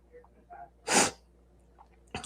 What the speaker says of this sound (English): I'm trying to not sneeze